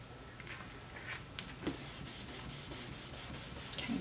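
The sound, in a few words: rubbing paper onto chipboard piece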